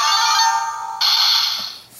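DX Musou Saber toy with a melon lock seed switched on, giving bright electronic tones and a jingle-like chime that shifts partway through, loud and close with no talking.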